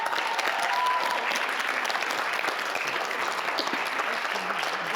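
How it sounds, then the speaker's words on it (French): Studio audience applauding two young singers at a Christmas quiz show, a dense, steady wash of clapping that carries at an even level from start to finish. "Applaudissements pour Juliana et Lohan."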